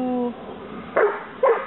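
A dog gives two short, separate barks about half a second apart, close and fairly loud, after a brief tonal sound at the start, with no talking between them.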